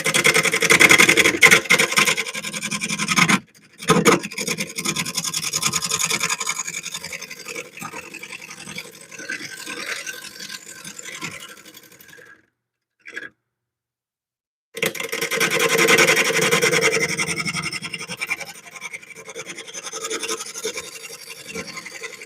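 A bowl turns on a wood lathe while the tool cuts into the spinning wood, giving steady scraping and rasping passes with brief pauses and a longer gap before cutting resumes.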